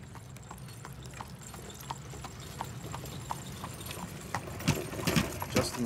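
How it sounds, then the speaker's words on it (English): Hooves of a horse pulling a buggy clip-clop in a steady rhythm on pavement near the Strasburg Railroad, moderately distant, with a faint engine hum beneath. "we actually have a horse and buggy crossing right in front here"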